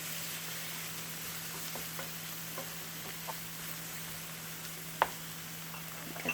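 Tofu scramble being stirred in a frying pan, with soft, faint scraping strokes at an irregular rhythm over a steady low sizzle and one sharper clink of the utensil against the pan.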